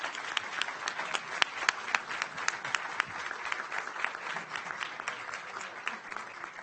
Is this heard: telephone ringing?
no